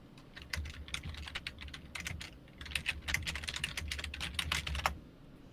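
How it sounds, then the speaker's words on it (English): Rapid, furious typing on a computer keyboard, dense clusters of sharp key clicks in an uneven rhythm, close and steady with no voices. "As he furiously typing away."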